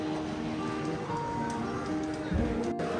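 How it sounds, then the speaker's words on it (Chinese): Steady rain falls on a busy street, a constant wash of patter with faint background street noise and a brief low thud near the end. "只是今天下雨了"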